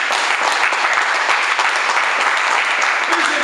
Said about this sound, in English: give my dear son a big round of applause